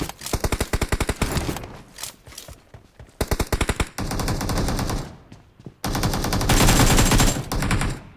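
Rapid automatic gunfire from a shooter video game, loud bursts of rattling shots separated by short pauses, with sustained fusillades toward the end.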